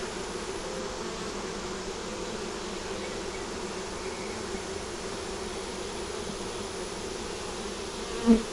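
A dense, steady buzz of many honeybees fills the air around an opened beehive during an inspection, with one brief louder knock near the end and no talking.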